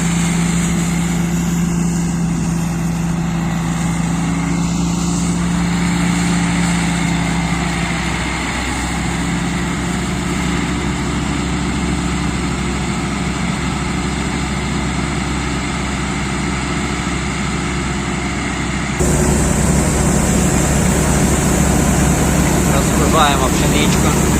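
A Sampo 500 combine harvester's engine runs steadily at close range while threshing barley or wheat, a constant heavy drone with mechanical rattling and someone talking over it.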